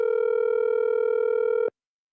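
A steady telephone tone sounds on an outgoing call, a continuous buzzing hum with a slight pulsing texture that holds for under two seconds and then cuts off abruptly into silence.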